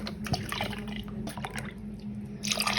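Milk streams into a mug while mug tiramisu is being made with egg yolk, giving a soft, close splashing and trickling pour with a few drips and no talking.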